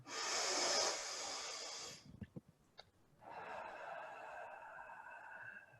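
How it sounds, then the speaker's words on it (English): One long breath drawn and released, close and breathy: a strong rushing inhale for about two seconds, a brief pause with small clicks, then a softer, steady exhale trailing off. "just taking one long breath"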